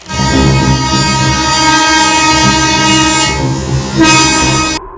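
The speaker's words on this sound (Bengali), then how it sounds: "একটা হুইসেল বেজে উঠল দীর্ঘ তীক্ষ্ণ এবং ভয়ানক" A loud, long, shrill train whistle blares continuously for about five seconds, rich and piercing, with a brief brighter swell near the end before it cuts off.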